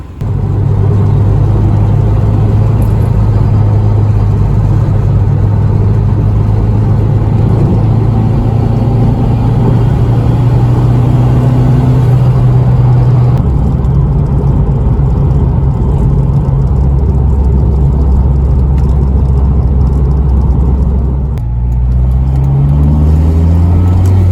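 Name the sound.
Honda RSX Type-S car driving on bumpy road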